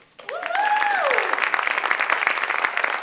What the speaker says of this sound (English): let's just give them a round of applause right now